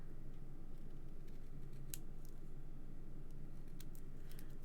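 Scissors trim around a paper card, producing a few faint, sparse snips and clicks close by over a steady low background hum.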